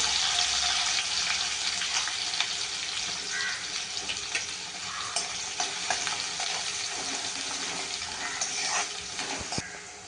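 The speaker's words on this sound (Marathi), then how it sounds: "हा आपण ठेवलेला कांदा याच्यात घालूया आता फोडणी" Chopped onion goes into hot oil with mustard seeds, cumin and curry leaves for a tempering, filling the pan with a loud, continuous hissing sizzle and crackle that eases slightly toward the end.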